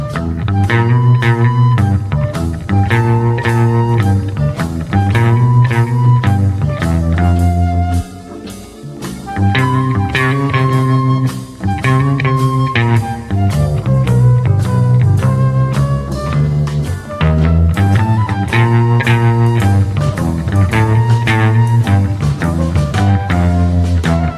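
A twangy, deep baritone guitar plays a surf-style melody with reverb, loud and continuous, briefly pausing around the middle before picking back up.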